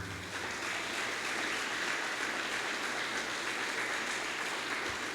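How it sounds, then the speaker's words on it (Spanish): A church congregation claps together in praise, a dense continuous patter of many hands that stays even and fairly soft for about five seconds. "Dele palmas fuertes al Señor."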